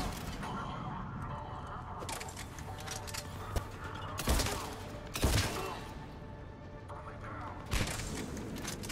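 Shotgun blasts in the Mass Effect 3 video game, a few sharp booming shots spaced seconds apart amid busy combat noise, with a voice talking over them.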